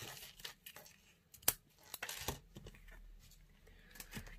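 Adhesive tape backing is peeled off cardstock in quiet, short crinkly tearing bursts, with one sharp click partway through. It is faint and close, with no speech.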